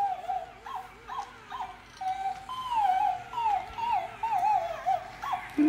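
An electronic toy puppy at home gives a string of rising and falling whimpers and high yips, close and fairly clear, repeating in short bursts over a low background hum.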